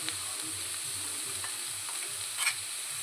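Chilli powder and masala fry in a pan with a soft, steady sizzle over a low rhythmic hum, with one brief scrape near the end.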